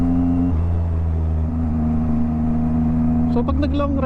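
A 2023 Yamaha MT-09 motorcycle in sporty mode on city streets holds a steady engine drone, then revs sharply upward near the end in a loud, close surge.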